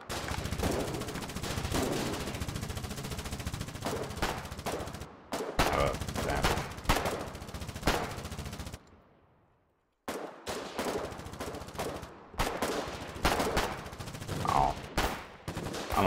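Gunfire in the trench-warfare video game Foxhole, with rapid rattling bursts of automatic fire and sharp shots packed closely together, briefly cut off by a near-silent gap before resuming at moderate loudness.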